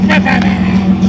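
A 1994 Chevrolet Camaro V6 exhaust idling and revving, a close, loud, deep burble with a brief rasp, as people talk nearby.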